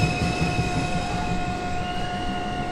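A New York City subway 1 train, an R142 car, rumbles steadily with a constant electrical whine and rolling wheel noise, close and continuous throughout.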